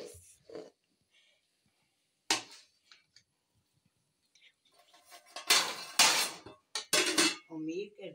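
Clinks and scrapes of serving utensils against pots and dishes while chana rice is dished out, a few sharp clatters in quick bursts with quiet gaps between them, fairly close.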